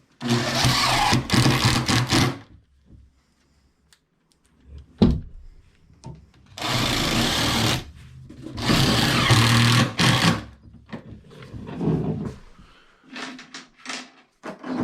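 A power drill drives screws into composite closet material during a closet remodel, heard as several loud, close whirring bursts separated by short pauses.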